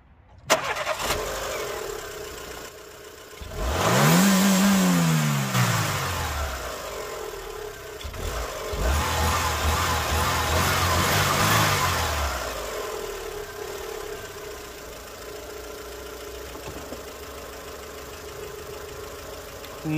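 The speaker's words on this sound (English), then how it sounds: "I can only assume what Andrew's about to do is start the engine. Yep. And probably rev it to fart" A 2010 Renault Clio Tourer engine cranks and catches, then is revved hard in a couple of rising and falling bursts before settling back to a steady idle, recorded close by with no talking.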